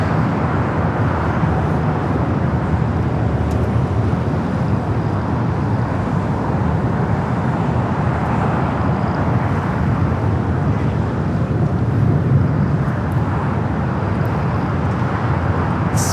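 At Los Angeles LAX, an airliner bound for Osaka takes off on the south side with a loud, unbroken jet roar that stays steady throughout, mixed with some wind rumble, and no voices.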